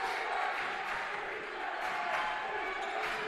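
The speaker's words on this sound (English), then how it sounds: "Good Anderson crowd here tonight" Crowd noise in an arena during an Anderson vs Transylvania men's Division III college basketball game, a steady wash of murmur and scattered shouts at a distance, with a commentator's voice faintly over it.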